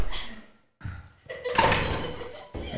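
A door slams shut in a horror-style multiplayer video game, one sharp broadband thud after a brief quiet gap, with players' voices around it.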